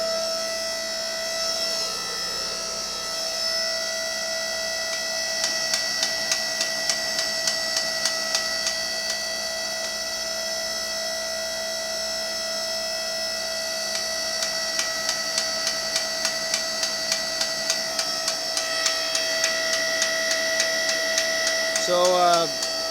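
A hydraulic plastic shredder at a recycling depot runs in forward at about 80 RPM, a steady mechanical hum with sustained tonal whine and a regular ticking clatter, continuous and fairly loud, with no talking over it.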